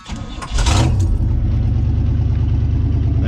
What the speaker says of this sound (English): crank up the truck, and you're gonna hear the alternator squeal a little bit